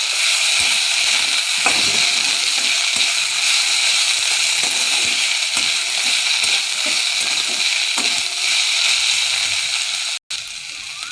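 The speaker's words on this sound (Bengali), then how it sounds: "শাক উচ্ছে ভাজা হয়ে গেছে" Bitter gourd and leafy greens frying in a pan with a little sugar, a loud continuous sizzle with occasional scrapes and clicks of stirring, close up.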